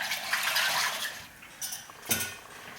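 Skeeter Pee wine must being stirred vigorously to aerate it, liquid sloshing and swishing with a few sharp clinks of the stirrer against the vessel, close and moderately loud.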